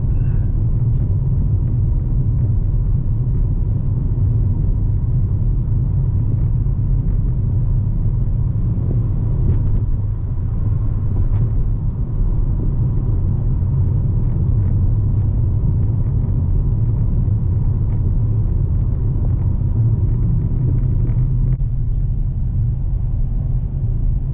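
Rush hour traffic on Paseo del Norte Boulevard, a main road in Albuquerque, heard as a continuous low rumble of passing cars with no standout events.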